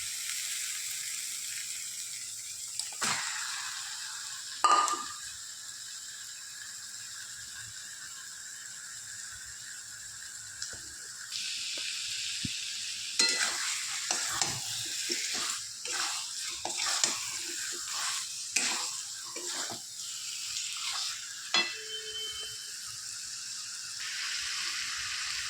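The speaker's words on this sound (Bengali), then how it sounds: "মশলাটা কষা হয়ে গেছে, এবার চিকেনটা দিয়ে দেবো।" Chicken frying in a pan of cooked spice paste, with a soft steady sizzle broken by scraping stirs and clinks of a utensil that come in uneven bursts, mostly in the second half.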